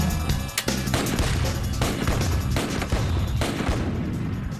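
Rapid, loud gunfire from a .50 caliber Beowulf rifle in the New Mexico desert, a dense string of booming shots and sharp cracks with echo, fired close and heard alone.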